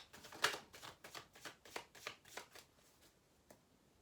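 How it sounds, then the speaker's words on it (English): Chuck Spezzano love cards are shuffled up close, a series of crisp riffling bursts in a loose rhythm, loudest at the start and thinning out toward the end, with no voices. "I'm going to take a couple of Chuck Spezzano love cards."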